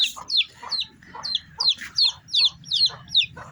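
Repeated high chirpy clucks from a young chicken, about eight sharp calls in quick rhythm, close and fairly loud over faint background noise.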